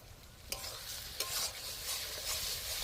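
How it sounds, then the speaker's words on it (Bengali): Turmeric, chili powder and green chilies fry in oil for a pointed gourd and prawn curry, a steady close sizzle with two distinct scrapes of a spatula stirring the pan and no voices. "মশলাটা ভাজতে থাকবো যতক্ষণ মশলা থেকে তেল না ছাড়ে।"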